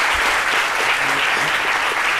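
A television studio audience applauds to welcome a professional choreographer onto the set, with loud, dense, continuous clapping from start to finish.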